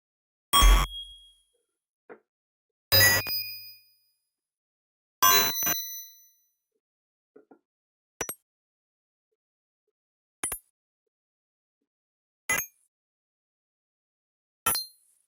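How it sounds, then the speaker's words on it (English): Bright, gritty bit-crushed UI dings ring out one at a time with silent gaps between them, each short and slightly crunchy, steady and clear. "check out the bit crush effect on one that we can hear a little bit better"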